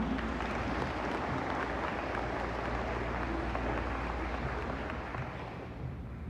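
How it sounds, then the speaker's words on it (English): A crowd at a ceremony applauds Chief Executive Officer Bao Bang after her speech. The clapping is faint and distant, a steady, even wash that fades slightly toward the end. "Let's give her a round of applause, please"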